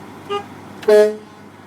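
A truck horn honks during a Quebec class 1 mechanical inspection: a faint short toot, then a louder, clear blast of about a quarter second, heard close over a low engine idle.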